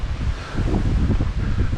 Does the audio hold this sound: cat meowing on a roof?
no